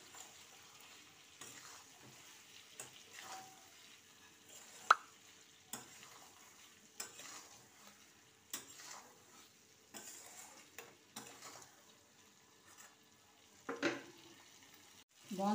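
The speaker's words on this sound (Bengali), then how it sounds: "আলুর সাথে ভালো করে আমি মিক্স করে নিচ্ছি" A spatula turns fried chicken pieces and fried potato together in a pan for a panch phoron chicken curry, making repeated scraping strokes over a quiet, steady sizzle, with the odd clink and plop.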